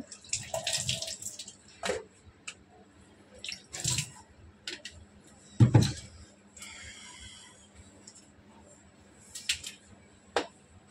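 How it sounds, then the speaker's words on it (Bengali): Water poured and splashed in short bursts, with drips and sloshing, as tamarind is soaked in a kitchen, fairly close and unhurried with quiet gaps between. "তেঁতুলটা একটু জলে ভিজিয়ে নেব।"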